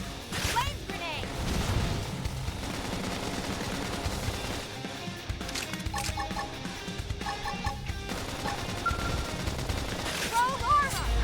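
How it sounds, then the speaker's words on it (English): A Flame Grenade attack in Xenoblade Chronicles X Definitive Edition bursts amid dense combat noise, with crackling blasts, whooshes and rapid impact hits layered over game music while a voice calls out. "Flame grenade!"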